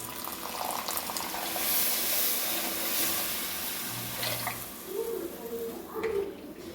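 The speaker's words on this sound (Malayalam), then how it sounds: "ഇനി അതിലേക്ക് ആവശ്യം നമുക്കങ്ങ് വെള്ളം ഒഴിച്ചു കൊടുക്കാം" Water runs and splashes into a pan of Kerala-style king fish curry at close range, a steady broadband pour with faint background sounds and brief murmurs.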